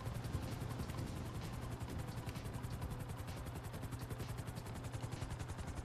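A helicopter flies in the video game GTA 5 Online, its rotor chopping in a rapid, even pulse that is faint but steady throughout, with no talk.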